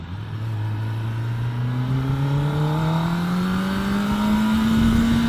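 A sport motorcycle engine with a flashed, unlocked ECU climbs steadily in pitch as it accelerates, a deep throaty drone rising smoothly without a break, heard close and continuous.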